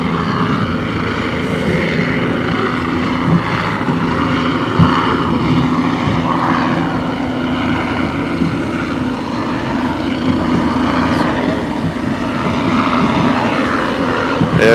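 A helicopter hovers low in front of an Ocean Race sailing yacht during the Cape Town in-port race, its steady rotor and engine drone loud and continuous throughout, with wind noise and no talking.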